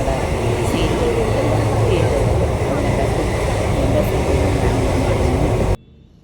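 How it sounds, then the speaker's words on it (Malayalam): The Parasuram Express, a passenger train on a trip toward Kannur, makes a loud, continuous rumble and rattle close by, then the sound cuts off abruptly. "അങ്ങനെ ട്രെയിൻ കടന്നു"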